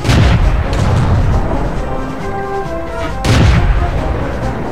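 Tank cannon fire in the video game World of Tanks comes as two heavy booming blasts a few seconds apart, each with a ringing tail, loud and close, with faint talk underneath.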